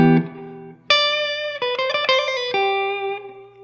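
Ambient electric guitar runs through a Strymon El Capistan tape-echo delay with moderate repeats and mix, a low note fading into a bright struck chord and a quick run of notes that ring and trail off with soft echoes.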